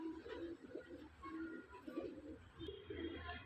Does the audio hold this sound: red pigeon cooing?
yes